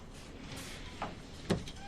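A door is shut inside a room during a tense drama scene, with a soft creak and then a short, muffled thud of it closing, heard quietly and without talk.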